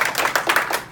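A school class gives themselves a hand, with a short run of distinct, rhythmic claps from a group in a classroom, close and fairly loud.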